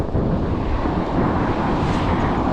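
Strong wind buffets the microphone in a continuous, rough roar with no voices.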